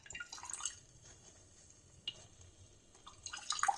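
Ground beetroot, amla and curry leaf paste mixed with a little water is strained, giving faint soft drips and wet squishing trickles with quiet pauses, growing a little busier at the end.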